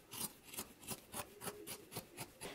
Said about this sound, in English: I'm going to trim down my seam just a little bit here.